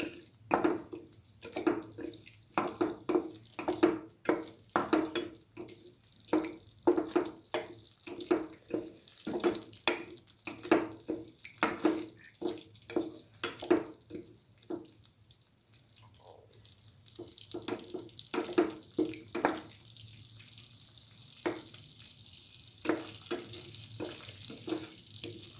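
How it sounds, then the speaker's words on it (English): Potato and coconut sautéed and stirred in a pan, a rapid series of close scraping, tossing bursts with a soft sizzle underneath, irregular in rhythm and easing off partway before resuming, with no talking. "thoroughly saute and mix"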